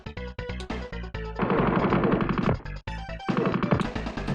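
Rapid gunfire in a Shadowrun video game, loud bursts of automatic shots chattering in quick rhythm, broken by brief pauses between volleys.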